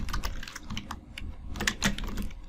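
Code is typed on a computer keyboard in quick, uneven bursts of sharp clicking keystrokes, near and fairly crisp, with no voices present.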